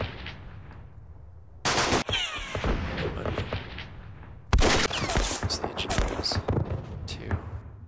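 Gunfire from units shooting in a World War II strategy game set on the West Front, heard as two loud bursts of rapid crackling shots that start abruptly and ring on, with a low rumble beneath.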